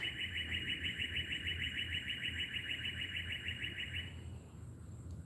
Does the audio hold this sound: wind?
no